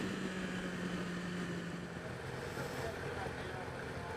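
A Yamaha R6 motorcycle engine idles along at light throttle as a steady, fairly quiet drone with wind rush, a faint low hum persisting under the broadband noise.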